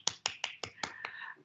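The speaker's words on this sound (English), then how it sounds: "there's a lot of hands clapping" Hands clapping at an academic seminar: five or six sharp, evenly spaced claps close to the microphone, then a few fainter overlapping claps as the applause trails off.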